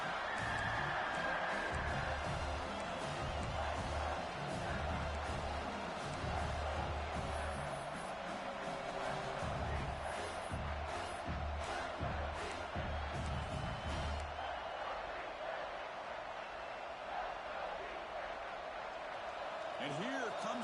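A large stadium crowd at an LSU vs. South Carolina American football game roars and cheers continuously at a distance, urging the defense on a red zone stand, with a commentator talking over the noise.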